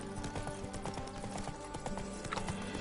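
In the Witcher 3: Blood and Wine game world, Roach's hooves clip-clop in a steady walking rhythm, close and clear over a soft ambient background, with no talk.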